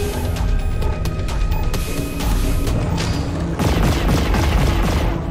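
Turret gunfire in Carrion clatters in dense, rapid bursts with mechanical rattles and booming impacts, loud and continuous through the whole stretch.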